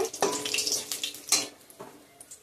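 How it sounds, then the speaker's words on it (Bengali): Dry red chillies and two bay leaves fry in hot oil, giving a steady close sizzle broken by a few louder stirring scrapes and clatters against the pan. "মশলাটা কষিয়ে নিব এখন। শুকনো লঙ্কা দিয়ে দিলাম, তেজপাতা দুটো,"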